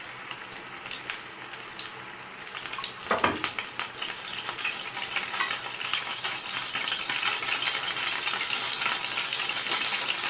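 Egg-soaked bread for French toast dropped into an oiled pan with a soft thud, then a steady close sizzle that grows slightly denser as it fries.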